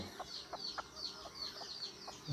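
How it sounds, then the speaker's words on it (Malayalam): A mother hen with newly hatched chicks clucks softly in a repeated, irregular rhythm, with thin high peeping from the chicks running alongside, close and fairly quiet. "നല്ല അടിപൊളി കോഴിയും കുഞ്ഞുങ്ങളാണ്"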